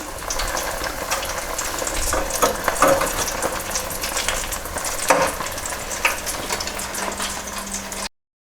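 Onion rings in a citric acid and bicarbonate of soda batter sizzle steadily in hot frying oil while being turned with a fork, giving a dense crackling hiss with occasional louder pops and scrapes and no talking.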